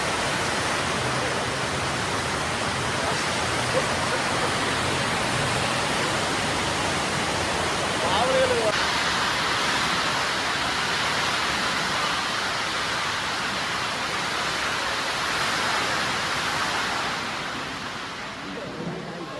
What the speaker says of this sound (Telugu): చూడండి, మామూలు వర్షం కాదు